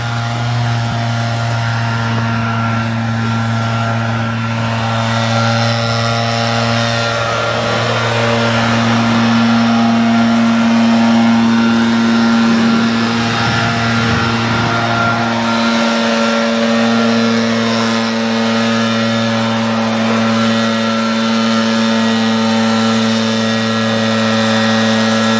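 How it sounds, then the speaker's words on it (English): Leaf blower blowing grain off farm equipment, a steady loud engine whine with sustained tonal hum that shifts pitch slightly midway, running continuously close by with no talking. "Dad's got the leaf blower going. It's just blowing off the grain,"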